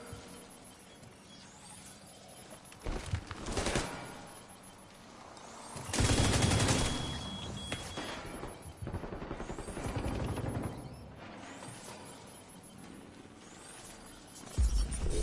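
Gunfire in the video game The Division 2, with bursts of automatic fire and single shots recurring across the stretch, some loud and close and others more distant, amid game ambience.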